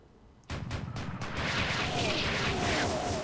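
Rapid booming blasts from a World War II vehicle battle in Arma 3, a sharp burst of reports giving way to a dense, continuous roar of explosions that fills the rest of the stretch.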